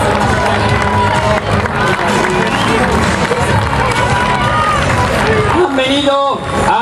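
Spectators at the women's race in Valencia cheer and shout as a loud, dense crowd roar, continuous throughout with a few higher shouts and whistles toward the end.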